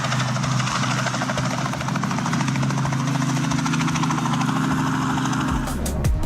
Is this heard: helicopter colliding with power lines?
yes